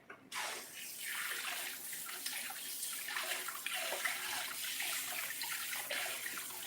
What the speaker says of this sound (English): And you rinse your hands off good.